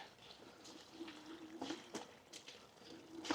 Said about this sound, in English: There's some water flowing here.